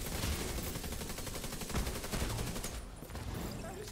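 Gunfire in The Division 2 during a heroic-difficulty siege mission, a loud rapid stream of automatic shots crackling almost without pause and easing off briefly near the end.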